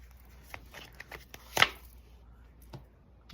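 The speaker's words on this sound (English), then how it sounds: "Let's put one more shuffle on this" Tarot cards are riffled and tapped in a quiet room, a few soft flicks followed by one sharp burst of shuffling, then scattered light taps.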